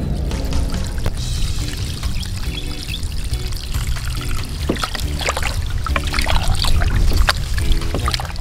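Duck legs being washed outdoors for cooking, with steady running and pouring water, splashing and trickling throughout, loud and close, with no voices.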